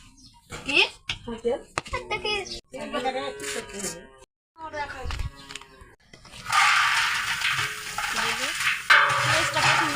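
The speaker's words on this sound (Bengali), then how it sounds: "পেঁয়াজটা প্রথমে একটু ভাজা করে নেব" Onions sizzling in hot oil in a pot while khichuri is cooked for Ramadan iftar, a loud hissing fry that rises in the second half after a stretch of speech.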